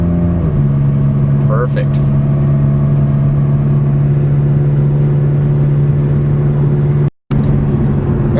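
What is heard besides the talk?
2005 Chrysler Sebring car accelerating and shifting gears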